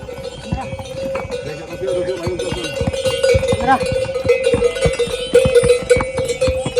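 Horses clip-clop along a mountain trekking trail in the Chopta–Tungnath area, a steady run of hoof strikes at close range, heard beneath someone talking.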